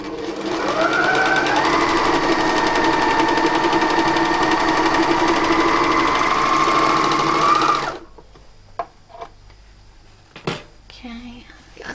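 A sewing machine runs steadily for about eight seconds, joining the ends of shirt sleeve bands, then stops, leaving faint handling clicks and light rustling.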